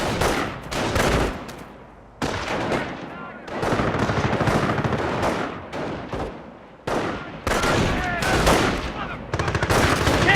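Gunfire in the World War II strategy game Company of Heroes comes in dense bursts of rifle and machine-gun shots with short pauses between volleys, loud and close.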